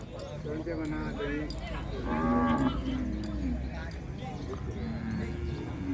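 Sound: water buffalo and cattle at livestock market

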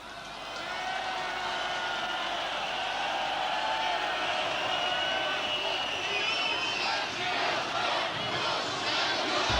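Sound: crowd on Maidan chanting Glory to Ukraine

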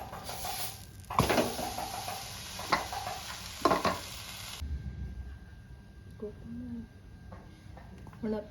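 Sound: potato paratha sizzling on a hot tawa

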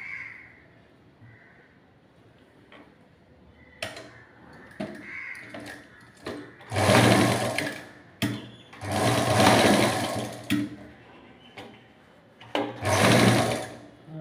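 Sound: sewing machine stitching with a ribbon tape

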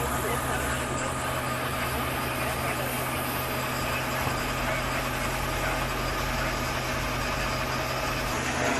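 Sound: fire engine idling at plywood warehouse fire

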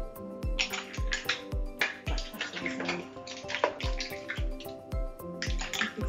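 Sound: ladling mussels and tomato chilli broth into a serving bowl

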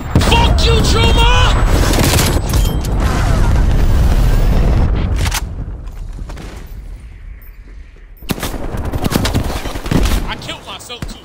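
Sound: missile strike explosion in the video game Call of Duty Warzone

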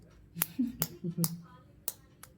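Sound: children clapping hands

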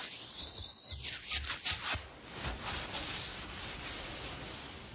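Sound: sanding the top of a Harbor Freight camp hatchet

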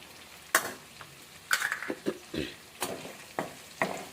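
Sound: green chillies and curry leaves frying and being stirred in pan

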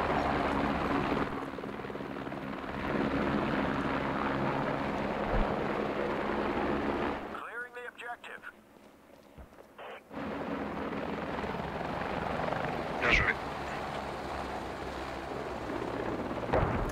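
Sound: helicopters flying in the video game Squad

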